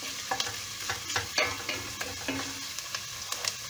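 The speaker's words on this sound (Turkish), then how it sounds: "Şöyle bir yemek kaşığı kadar zeytinyağı koyuyoruz. Soğanımız, sarımsağımız." Onion and garlic fry in olive oil in a soup pot, giving a steady sizzle. A spoon clicks and scrapes against the pot in frequent short strokes. No voices.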